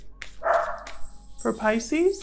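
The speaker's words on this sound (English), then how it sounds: "I'm sorry about my dogs. I think there's somebody outside." Dogs bark indoors in short bursts while a person speaks over them, the barking mixed with and partly under the talk.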